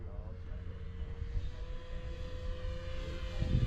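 A BlitzRCWorks P-40 Warhawk 1100mm RC plane's electric motor drones steadily during flight, a faint sustained hum that rises slightly near the end.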